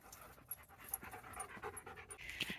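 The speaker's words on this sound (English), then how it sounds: "Look at the puppies." Puppies pant quietly nearby outdoors, with soft rapid breathy puffs in an irregular rhythm and faint background noise, no speech.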